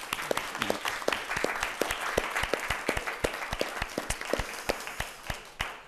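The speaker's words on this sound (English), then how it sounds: "We want to give these fine uh, uh, men and women a round of applause for the work that they've done." An audience at a city council meeting gives a round of applause, steady overlapping clapping with distinct sharp claps standing out, moderately loud throughout.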